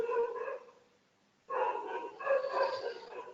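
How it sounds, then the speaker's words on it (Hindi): Dogs fight and bark in two loud, snarling bursts with a short pause between them, at moderate distance. "कुत्तों की लड़ाई हो गई है।"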